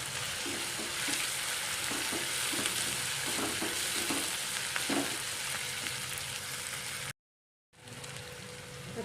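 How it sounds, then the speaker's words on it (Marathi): Tomato and finely chopped green chillies sauté for dal tadka in a pan, with a dense crackling sizzle and occasional stirring scrapes near the start. It cuts to silence briefly before the frying resumes. "टोमॅटो पण चांगला परतून घ्यायचा आहे। नंतर आता याच्यामध्ये बारीक चिरलेली हिरवी मिरची टाकायची आहे।"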